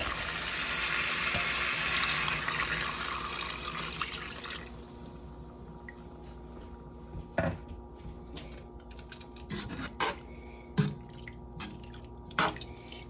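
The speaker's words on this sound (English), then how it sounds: "I'm going to pour that in there." Chicken broth poured into a pot with a steady rushing splash for several seconds, then stopping, followed by scattered light clinks and drips.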